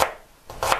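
Knife chopping onion into small dice on a board: a sharp cut at the start, then two more close, crisp chops after a short pause.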